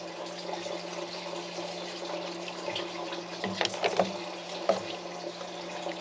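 Coolant draining out of a 2013 Ford F150's water pump area and splashing into a drain pan below, a steady close liquid trickle with a few brief louder spatters.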